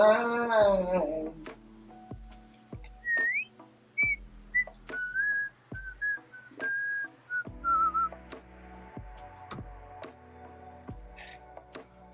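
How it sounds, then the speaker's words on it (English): A person whistles a wavering tune close by, with short rising and falling notes in bursts across several seconds, broken by soft clicks and thumps in the background. "when I start whistling"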